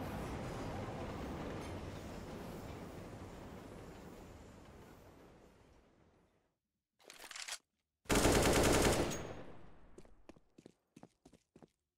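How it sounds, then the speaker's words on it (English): Counter-Strike: Global Offensive gunfire heard through an overpowered sound bug: a long stretch of rushing noise fades out, then sharp bursts of shots come in loud clusters followed by scattered single cracks. "here's what the overpowered sound bug sounds like"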